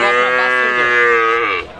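A single cow lows loudly and close by at a cattle market in Barobazar, Jhenaidah, one long drawn-out moo that slides down in pitch before trailing off.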